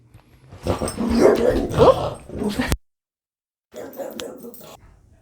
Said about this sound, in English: The dog gets crazy when the mailman comes, so he ripped my microphone out.